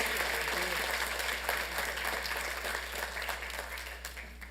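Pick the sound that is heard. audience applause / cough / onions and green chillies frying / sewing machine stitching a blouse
audience applause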